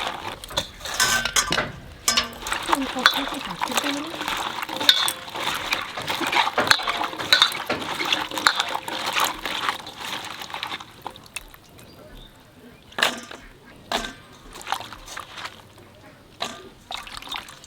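Taro stolons (kochur loti) are washed by hand in a bowl of water, with sloshing, dribbling water and light clinks of a metal pot, close by, tapering off toward the end.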